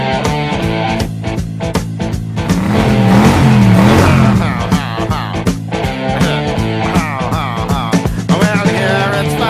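A Chevrolet car engine revs hard and races at a Chevrolet meet, loud and close throughout, with the roar swelling in the middle and sharp mechanical bursts over a steady engine drone.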